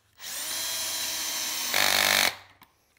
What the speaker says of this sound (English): I'm going to cut my parts to finished length, get the screw pockets in them